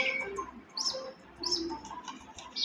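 Small birds chirp outdoors in a few short, bright upward calls spaced about a second apart, fairly faint over a soft, steady background.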